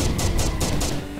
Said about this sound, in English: I just heard cannons from somewhere